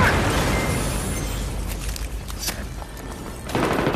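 Loud, dense battlefield din in Battlefield 3 with a grenade blast, a heavy boom and burst of noise around the middle amid continuous gunfire and rumble, close and harsh throughout.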